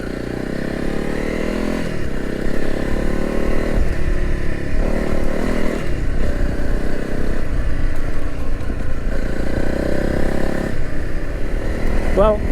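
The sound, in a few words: Honda CRF 300 Rally motorcycle riding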